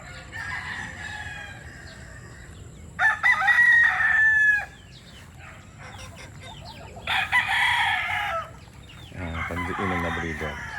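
Fighting gamecock breeder roosters crow in loud, separate bursts, with softer clucking and low barnyard noise between the calls.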